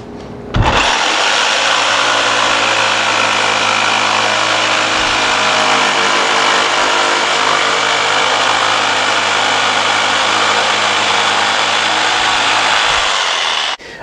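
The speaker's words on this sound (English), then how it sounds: "Turns out my corded jigsaw cuts through this stuff like butter." Corded jigsaw cutting wooden rings for carved dough bowls: a loud, steady, high motor whine with a buzzing blade, running continuously close-up for over twelve seconds before stopping.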